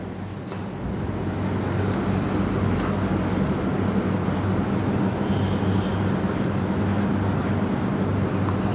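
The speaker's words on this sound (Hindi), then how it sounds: "यहाँ तक मैं इरेज कर रही हूँ" Steady rubbing of an eraser across a classroom board fills the clip, a continuous scratchy swish without pauses and no voice over it.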